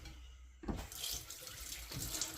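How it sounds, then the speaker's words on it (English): A kitchen tap opens with a soft click and water runs steadily into a sink while hands are washed during pork pie preparation, a close, gentle rushing flow with no talking. "Wash my hands first"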